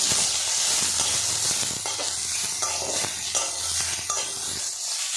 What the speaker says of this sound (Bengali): হালকা হাতে নাড়াচাড়া করে ভাজা ভাজা করে নেব